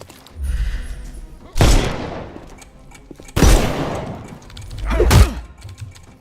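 Three loud, close gunshots in the video game Sherlock Holmes Chapter One, each a sharp blast with a booming decaying tail, spaced about two seconds apart.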